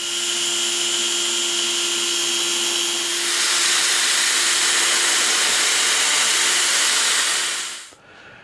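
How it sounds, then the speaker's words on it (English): A hand drill boring through a knife tang, a loud steady whine and hiss that grows harsher partway through as the bit bites, then cuts off abruptly near the end. "then I'll put my drill bit on my hand drill and drill the rest of the way"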